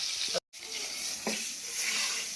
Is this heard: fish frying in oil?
yes